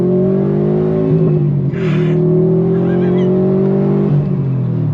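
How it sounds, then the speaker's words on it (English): A 2018 Subaru WRX STI Type RA with an AWE exhaust, its flat-four engine revving in a loud, continuous, burbly drone that climbs steadily in pitch, then eases off near the end. The engine is close and dominates, with no talk over it. "Nothing sounds like a flat 4 in this freaking thing."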